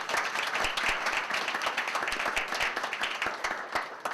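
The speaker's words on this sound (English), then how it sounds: "I just have to give those folks a round of applause." A seated audience gives a round of applause, with crisp individual claps clearly audible in a moderately sized crowd, steady throughout and slightly thinning toward the end.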